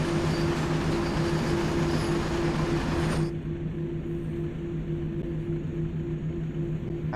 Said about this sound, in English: So we're just going to let the train run up and get some speed on.